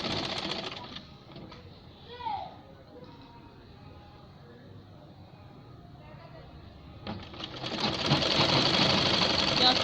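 A sewing machine stitching a fabric glove, a quiet start with a person speaking, then a loud steady rapid whirring run of the motor near the end.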